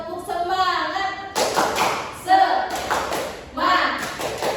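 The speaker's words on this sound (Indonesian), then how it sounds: "Tepuk semangat." Students in a classroom perform a rhythmic spirit cheer, sharp bursts of group clapping alternating with loud shouted chanting voices, near and energetic in several distinct rounds.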